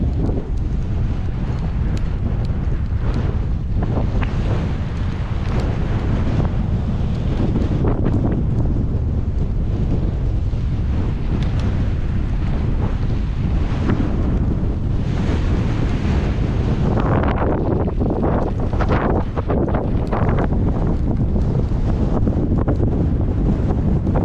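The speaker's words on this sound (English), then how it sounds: "Fighting the wind" Strong wind roars on a road near windmills, buffeting the microphone in a loud, continuous rush with gusty swells and no speech.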